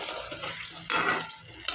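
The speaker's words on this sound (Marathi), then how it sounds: "त्याला चांगलं उकळून घ्यायचं आहे या पाण्याला चांगली उकळी आलेली आहे" A pan of water with turmeric and sugar bubbles on the stove, giving a soft, continuous sizzling simmer with a couple of brief scraping stirs near the end.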